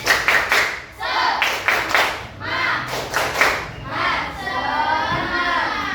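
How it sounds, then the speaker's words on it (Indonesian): Classroom of students doing a rhythmic spirit clap, patterned bursts of hand claps with group chanting voices, loud and close, in repeated phrases over several seconds. "Tepuk semangat."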